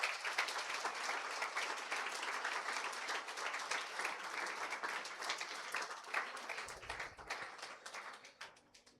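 A church congregation at a Sunday worship service in Cancún breaks into sustained, full applause, a thick steady roar of hands that gradually loosens into scattered claps and tapers off near the end.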